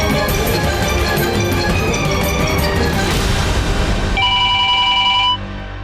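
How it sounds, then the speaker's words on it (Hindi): A telephone rings repeatedly over a loud, dense background, its electronic tone standing out clearly near the end before cutting off. "अरे फोन आ गया।"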